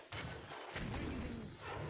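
Cannons fire in the Hearthstone video game as a Cannon Squire card is played: deep, booming blasts with a thudding low rumble that carries through the short clip, no voices.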